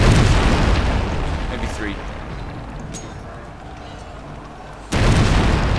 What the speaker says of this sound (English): One more volley and it's down, I think.